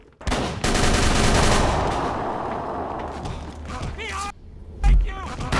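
Cannon fire in the horror video game Call of Cthulhu: Dark Corners of the Earth: loud, sustained booming and rattling blasts with short breaks and a heavy final boom, with shouting voices mixed in.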